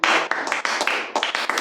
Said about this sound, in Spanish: Le doy un aplauso al Padre y al Espíritu Santo.